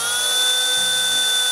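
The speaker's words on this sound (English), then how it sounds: "when you start drilling on an angled surface like this, you want to put the bit as perpendicular to the slopey part as you can" A power drill bores a hole into an angled plastic part with a steady, high-pitched whine that holds without a break and has no talk over it.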